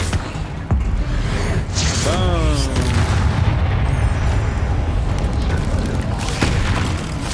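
Confringo fire-spell explosion in the game Hogwarts Legacy, a heavy booming blast with a rumbling, crackling tail over continuous game noise, with a voice speaking around it.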